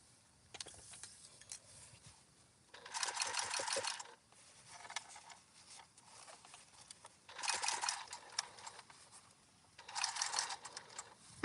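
A sewing machine stitches a wallet lining in three separate runs, each a few seconds of fast, rhythmic mechanical whirring and clatter, with quieter handling noises and pauses in between.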